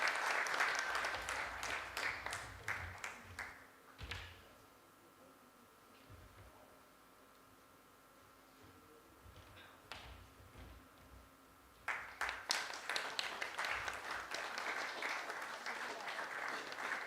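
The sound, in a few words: audience applause at a management convention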